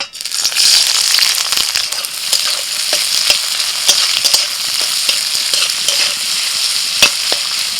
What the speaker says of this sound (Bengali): এবার তেলের মধ্যে দিয়ে দিচ্ছি পেঁয়াজ কুচি।